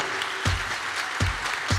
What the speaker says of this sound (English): Big round of applause for our first speech.